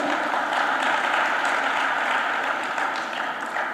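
Sustained applause from an audience at a Hindi religious discourse, a dense, steady clatter of many hands clapping at once, loud and even throughout before easing slightly near the end.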